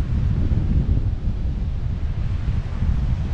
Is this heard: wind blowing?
yes